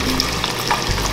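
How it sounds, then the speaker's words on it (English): A jalapeno sizzling in a hot frying pan, a loud, close, steady crackling hiss over its whole short length, with no talking. "The jalapeno sizzling."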